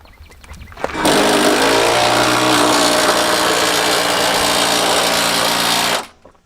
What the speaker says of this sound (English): we're gonna grab a socket and impact and get them bolts tightened up